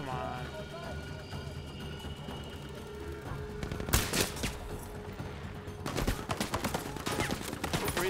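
Gunfire in the Battlefield V video game: a burst of rapid shots about midway, then a longer run of sustained automatic fire, fairly loud against a low background rumble.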